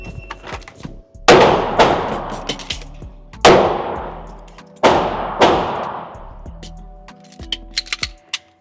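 Pistol shots at an indoor range during timed IDPA-style practice: three loud, sharp reports spaced a couple of seconds apart, each with a ringing indoor decay, amid softer clicks and handling noises.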